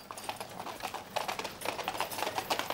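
Horses' hooves clip-clop steadily on a hard surface in a scene with the Count of Monte Cristo, a brisk, continuous rhythm of close, moderately loud strikes with no voices over it.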